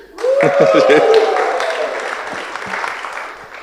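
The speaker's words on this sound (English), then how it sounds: "let's give it up for another round of applause for all the toasts tonight" Guests applaud after the wedding toasts for Audrey and Nicholas, a full burst of clapping that rises quickly and tapers slowly, with a loud voiced cheer riding over it early on.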